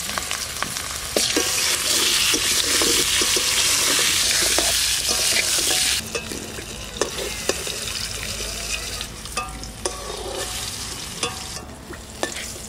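Cut, washed potatoes frying in a kadai, a loud dense sizzle and hiss for the first half that settles into quieter crackling with scattered scraping and stirring clinks, no voices.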